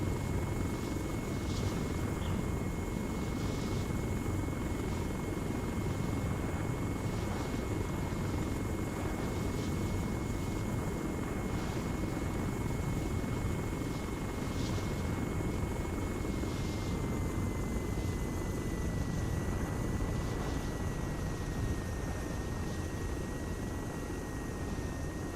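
A Little Bird helicopter flying in ARMA 3, its steady rotor drone and faint regular blade thumps holding at a constant level, fairly quiet and unbroken for the whole stretch.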